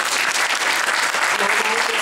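Audience applause at a youth performers' concert, a steady dense clapping from a full hall that holds evenly throughout the short moment.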